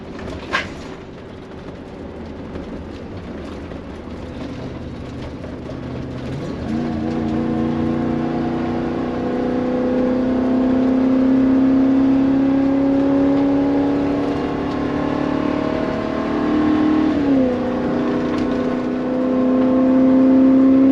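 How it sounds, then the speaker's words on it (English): Inside a 2005 Newmar Kountry Star 37-foot Class A motorhome with a gas engine, a steady engine drone climbs gradually in pitch while cruising on the interstate, with road rumble throughout and a brief shift partway through. "this thing will move for a 37 foot Class A with a gas motor"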